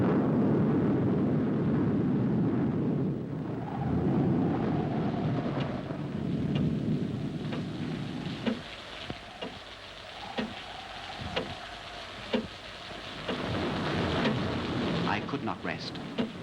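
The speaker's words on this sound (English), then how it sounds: "a night when I was unable to sleep for a fast-rising storm of a freak nature" A fast-rising night thunderstorm gives a steady roar of heavy rain, with deep thunder rumbling through it and several sharp cracks and gusts later on.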